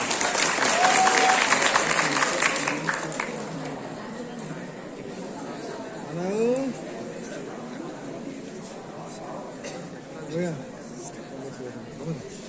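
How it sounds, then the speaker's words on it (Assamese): Applause from the audience at a youth festival award function, loud at first and fading after about three seconds, then giving way to a speaker's voice and murmured chatter. "কি হ'ল তোমালোকে হাত চাপৰি মৰা নাই কিয়?"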